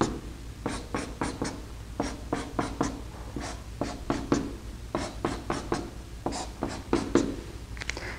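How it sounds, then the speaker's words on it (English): Pen strokes drawing hydrogen atoms onto a chair conformation by hand, a steady series of short, close scratchy marks on paper with brief pauses between groups. "I'm drawing the hydrogen atoms in two colors"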